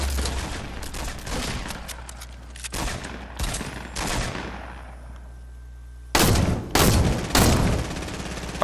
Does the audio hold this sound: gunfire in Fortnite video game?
yes